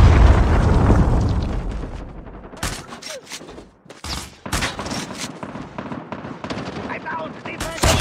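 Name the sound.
gunfire and predator missile explosion in a shooter video game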